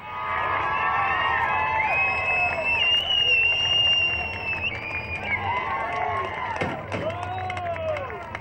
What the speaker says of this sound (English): Make some noise for Adam Ferry.